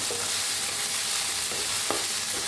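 Tomatoes are stirred into an eggplant curry frying in a pan, giving a loud, steady sizzle with a few soft spoon scrapes and no voices.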